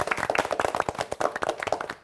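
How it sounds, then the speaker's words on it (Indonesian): Hand clapping from a small group during a children's math lesson, a quick burst of sharp irregular claps, fairly close and loud, fading out near the end. "Tepuk tangan dulu dong"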